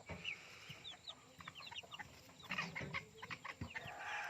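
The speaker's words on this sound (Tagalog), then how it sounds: "Brahma chicks yan, Brahma chick, tatlo yan, tatlong sisiw ng Brahma" Brahma chicks peep in quick, high, chirping bursts, faint and close together, with soft rustling in the background.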